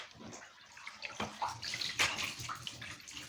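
Water running from a tap or tub over a shirt being stretched, a steady splashing flow with bursts of heavier pouring, close and alone.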